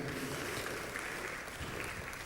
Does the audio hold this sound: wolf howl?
no